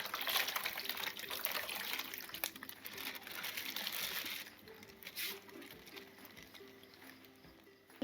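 Water poured and trickling as newly bought aquarium fish are separated from their bag water; a splashy pour is strongest at first, then thins to a softer patter and dribble, close up over a faint hum.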